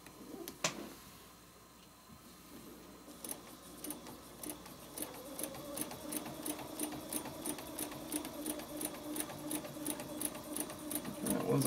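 A domestic sewing machine stitches a quilt along guide lines with a template. After a quiet start it runs steadily in a fast, even mechanical rhythm. It is close and moderately loud, with no talk.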